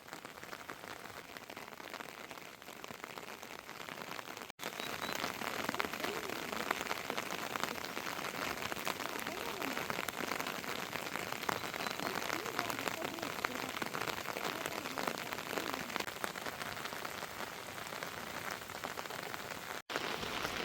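Steady rain falls on a surface, a dense continuous patter close by that swells louder after a few seconds and keeps going without a break, with faint voices in the background.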